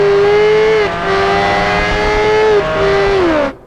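A race car engine in Project Gotham Racing 4 screams steadily at high revs, dipping briefly on two gear shifts before climbing again, then cuts off abruptly at the end, loud and close with no talk.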